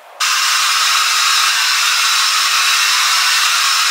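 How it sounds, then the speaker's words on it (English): A handheld blow dryer running at full power during a makeup routine, a loud steady rushing whoosh that starts abruptly, holds constant for nearly four seconds and cuts off sharply, with no speech. "I'm gonna use my blow dryer and blow dry my face"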